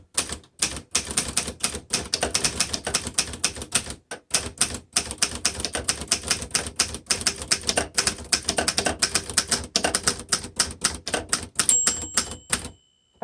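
A 1954 Underwood vintage typewriter typed on steadily up close, a loud dense run of mechanical key strikes with brief pauses and a carriage bell ding near the end.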